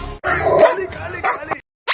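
A dog barks in loud, close bursts, several sharp barks broken by short pauses and one later bark after a silence.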